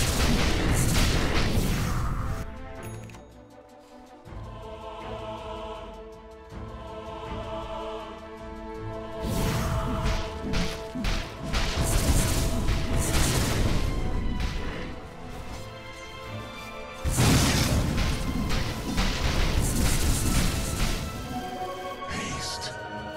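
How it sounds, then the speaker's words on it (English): Dota 2 battle as a middle tower comes under attack, loud repeated booming impacts and crashing hits in heavy waves with dense layered game effects. "Radiant's middle tower is under attack!"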